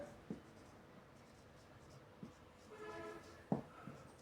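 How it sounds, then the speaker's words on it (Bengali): A pen writing by hand on paper while working a fifth-grade maths problem, with faint scratching strokes and a few soft taps, close but quiet, alone without talk. "আমি আগে লিখি"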